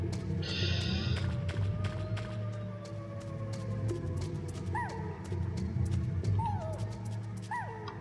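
Dogs in the Metal Gear Solid video game giving short yips and whimpering barks over a steady ambient game hum, with a few rising squeals near the end; a voice is faintly present.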